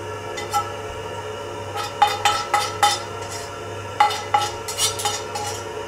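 Metal utensil scraping and clinking against a pan while degreasing it for a rabbit sauce, a dozen or so short sharp strokes in uneven bursts over a steady low kitchen hum.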